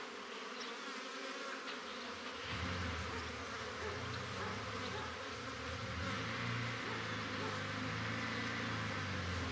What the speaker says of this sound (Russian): Это у нас среднерусская пчела.